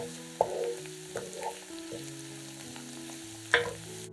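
Fried mushrooms and onions seasoned with salt and black pepper being stirred in a pan, a few sharp utensil scrapes and taps over a constant low sizzle, close and fairly quiet.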